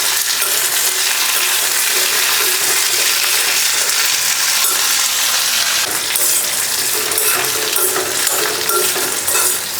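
Small onions sauté in a pan with a dense, loud hiss that keeps up throughout, and a few scrapes and shifts from stirring.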